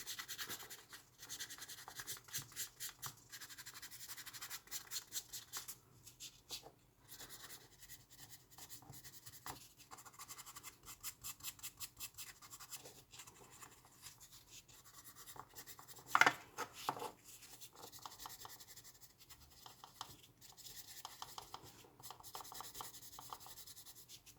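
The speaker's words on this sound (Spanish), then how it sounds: "lijarla con una lija muy finita, muy fina" Soft, repeated scratchy rubbing strokes of very fine sandpaper on a carved Blythe doll's mouth, quiet and close, in irregular bursts with a brief louder knock midway.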